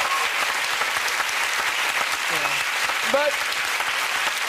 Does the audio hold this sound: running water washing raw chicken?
no